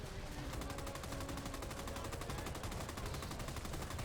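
Hipfire gunfire in RAID: WWII, a steady rapid automatic stream of shots running throughout at low overall level, with no talking.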